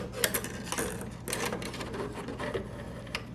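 A Singer Touch and Sew sewing machine turned by its hand dial to make a single stitch, giving soft mechanical clicks and rattles at close range with no one talking.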